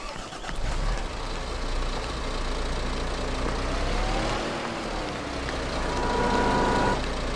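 Machinery rumble from a wheel loader with a 1,000-litre bucket scooping iron ore in a mining operation in Farming Simulator 22, a steady close engine drone with a faint whine and no talk.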